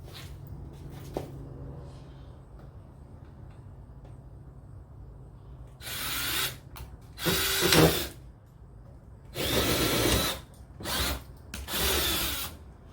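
A power drill boring a hole for a car front splitter on a Hemi RT: after a quiet start, several short, loud whirring bursts of drilling come close by, separated by brief pauses, with no talking.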